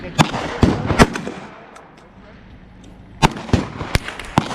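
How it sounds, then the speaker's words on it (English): Gunshots at an outdoor shooting range, several loud sharp cracks in an uneven cluster, a quiet pause, then another burst of shots, some nearby and some from other lanes, with people talking faintly between them. "So I'm gonna shoot some 10 yards and see how my 25 yard sighting in shoots over here."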